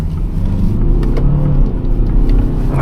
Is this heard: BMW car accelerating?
yes